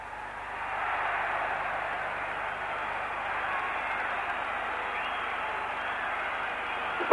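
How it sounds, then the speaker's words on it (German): A 1983 football crowd at Tottenham vs Bayern whistles at the end of the match, a steady broad wash of whistling and noise held at an even level throughout. "Das Publikum pfeift"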